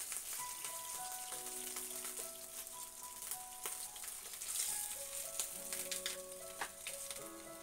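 Chicken breast sizzling and browning in a hot pan, a steady crackling fry with scattered pops and spits throughout, close and fairly loud, no talking.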